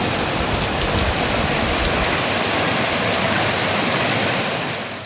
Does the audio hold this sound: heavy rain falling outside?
yes